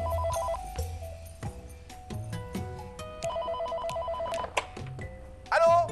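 A telephone rings repeatedly in a steady pattern of electronic trills, moderately loud and close, alongside other beeping tones.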